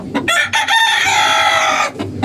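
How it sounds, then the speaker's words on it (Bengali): A pair of chickens clucks loudly and close by in short, sharp bursts, with a crow-like cry in the middle of the brief burst. "দুটো মুরগি আনছি আমি আর ফার্মে মুরগির দাম অনেক"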